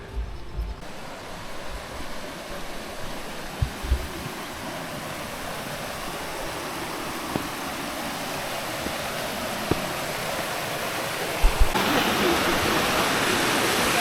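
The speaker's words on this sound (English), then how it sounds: "we are walking from our homestay to a waterfall, probably just a little waterfall, where you could also swim." Small waterfall near a homestay on the Ha Giang Loop in Vietnam, a steady broadband rushing roar that grows louder as the listener approaches, with a few footsteps and light thumps over it.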